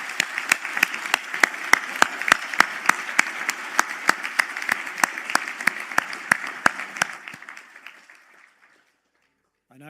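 Graduates at a Galway City conferring ceremony give a round of applause, heard as evenly spaced, crisp claps in a steady rhythm that gradually weaken and die away before silence.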